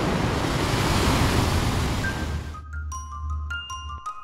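Stormy sea with heavy waves crashing in loud, broad surf for about two and a half seconds, then dropping to a low rumble with faint high tinkling tones.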